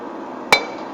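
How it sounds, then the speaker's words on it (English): A single sharp hammer strike on hot steel at the edge of an anvil while forging a leaf keychain, a bright ringing clink standing out against low shop hum. "I'm going to use the flat side of my hammer, and I'm just going to create at half on, half off kind of blow at an angle."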